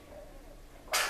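A single short, sharp sneeze bursts out near the end after quiet room tone, close and fairly loud.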